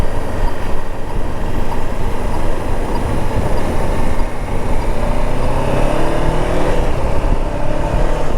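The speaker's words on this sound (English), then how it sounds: "Buses are speeding." Dense road traffic roars past a rider on a Honda CB500X motorcycle during a commute, with speeding buses adding a loud, continuous rushing and engine drone that stays steady and close throughout, without any talking.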